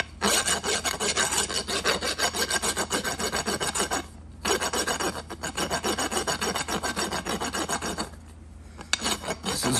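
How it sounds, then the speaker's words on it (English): An old farrier's rasp files against Kentucky hornstone flint while knapping a turkey-tail point, a loud rapid scraping in repeated back-and-forth strokes with two short pauses, no talking. "Just an old farrier's rasp I got."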